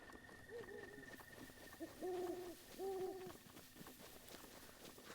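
An owl in Zelda Breath of the Wild gives three soft, low hoots spaced about a second apart over steady forest ambience and a faint high tone, fairly quiet and distant.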